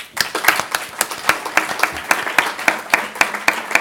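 Brisk clapping with sharp, evenly spaced claps, close and fairly loud, like a small group applauding.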